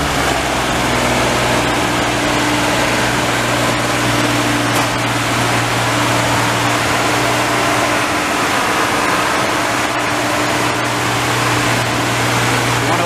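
A 1963 Chevrolet Corvair Monza engine holds a high idle, giving a steady, loud, even hum with a low droning tone that runs unchanged for the whole stretch. No one speaks.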